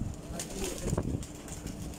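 Racing pigeons at a loft of a pigeon flying association in Faisalabad, heard as a fluttering, busy wash of bird sounds with soft wing flaps and faint coos, steady and moderately close, with no talk.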